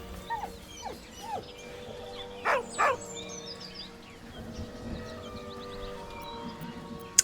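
A dog whimpers with a deep, mournful whine in the video game Baldur's Gate 3, heard as a few short rising cries and two louder bursts over a steady ambient game soundscape.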